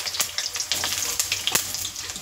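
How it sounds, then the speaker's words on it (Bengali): Potato pieces fry in hot, smoking oil, giving a close, steady crackling sizzle with brief sharper spits, and no voices present. "এবার আলুগুলো প্রথমে ভেজে নেব"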